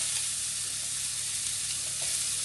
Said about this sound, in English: we're just gonna fry that and mix it all up